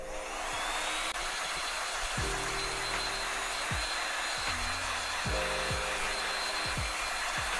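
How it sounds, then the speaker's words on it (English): A heat gun blows a steady, loud whooshing hiss while it melts hot glue on cardboard, with scattered scraping and tapping knocks from handling the pieces underneath. "I'm just going to go over it with the heat gun, and it'll melt the hot glue"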